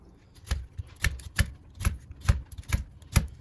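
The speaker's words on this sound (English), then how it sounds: "Cutting raw potatoes is not so easy" A knife chopping raw potatoes for chicken and rice soup, about nine sharp, close strokes striking a cutting board at a steady, unhurried rhythm, with no talking.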